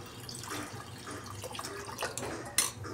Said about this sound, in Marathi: आता आपण यामध्ये पाणी टाकूया।